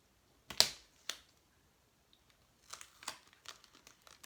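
Duct tape pulled and torn from the roll, then pressed onto markers for a toothbrush draw bot: two sharp rips close up, a quiet pause, then a series of soft crinkling pats and presses.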